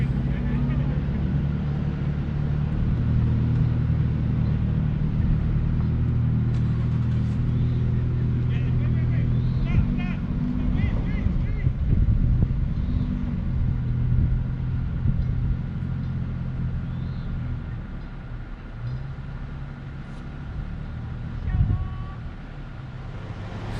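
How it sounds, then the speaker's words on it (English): A 2020 Toyota 4Runner TRD Pro crawling along an off-road trail, its engine a steady low drone close by, with some rumbling and knocks over rough ground and occasional faint talk. "Here's Amanda and her 2020 Toyota 4Runner TRD Pro"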